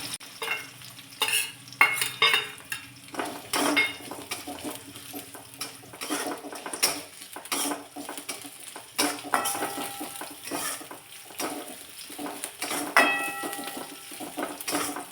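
Chopped onion sautéing in a pan for a cabbage curry, a steady close sizzle and frying hiss broken by repeated scraping and stirring clatter of a spoon against the pan.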